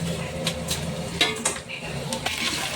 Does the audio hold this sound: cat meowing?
no